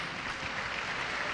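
Applause at a church gathering, steady dense clapping at moderate distance throughout, fairly quiet, with no voices over it.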